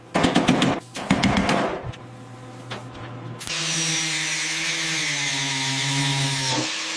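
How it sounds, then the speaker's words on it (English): An angle grinder smooths a welded metal patch on a rusty Buick Skylark body, starting with a few sharp rattling bursts before settling into a steady, loud, high-pitched grinding whine. "Grinding it smooth."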